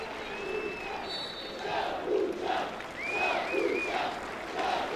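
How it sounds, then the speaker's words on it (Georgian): A crowd of football fans in a stadium roars and cheers as a boxer and WBO world champion returns to the pitch for a Georgian league match, a broad, sustained swell with a commentator talking over it. "ესალმებიან ჩაკუჩას საყვარელი ქალაქის გულშემატკივრები"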